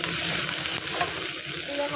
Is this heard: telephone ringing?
no